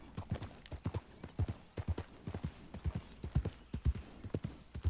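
Horse hooves clip-clop at a steady walking rhythm in the western video game Red Dead Redemption, close and clear, with quiet background ambience.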